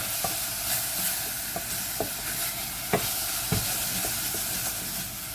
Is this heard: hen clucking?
no